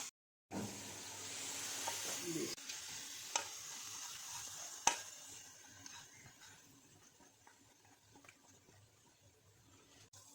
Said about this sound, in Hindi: अब इसको कर लेते हैं अच्छे से मिक्स